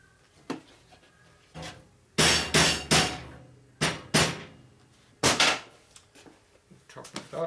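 Sharp hammer blows on stout metal stock clamped in a vise, struck in short bursts of two to four hits with pauses between, close and loud.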